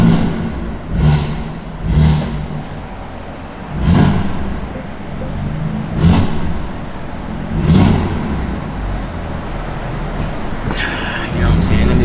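A BMW F80 M3 with a manual gearbox and high-flow downpipes revs repeatedly. The exhaust swells in loud, rhythmic blips about every two seconds over a steady rumbling idle, with no talking.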